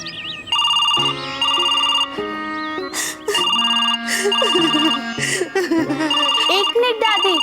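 A telephone rings in a home with a loud, bright repeating electronic ringtone in bursts, while people talk over and between the rings.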